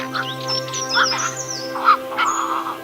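Cattle egret chicks calling in a breeding colony, a busy chorus of harsh, croaking caws and squawks with thin higher chirps, several birds close by calling over and across one another without pause.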